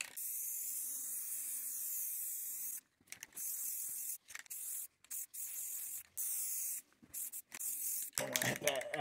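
Rust-Oleum ultra matte gray spray paint hisses from an aerosol can in several bursts, the longer bursts separated by brief pauses, close and steady, with a short rustle at the end.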